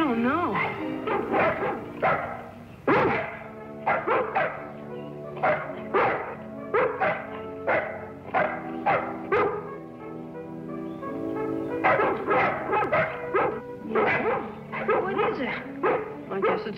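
A dog barks repeatedly in short bursts over a steady musical background, with gaps between volleys of yips and barks.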